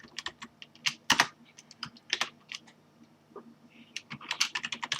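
Someone types C++ code on a computer keyboard, giving quick irregular key clicks in short bursts with brief pauses, close and fairly quiet, with no talking.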